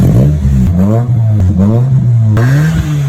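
A Nissan Sentra fitted with a K-Racing carbon-tip free-flow aftermarket muffler revs repeatedly, its loud, close exhaust note rising and falling in several quick throttle blips, with no voices.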